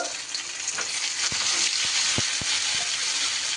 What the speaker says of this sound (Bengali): একটু মোটামুটি করে পনিরগুলো ভেজে তুলে নিতে হবে